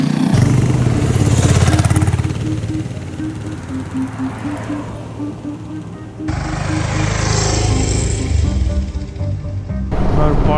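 A motorcycle rides along a village road in Uttarakhand, its mid-pitched engine droning steadily and close throughout, with wind rush and a brief change in tone partway through.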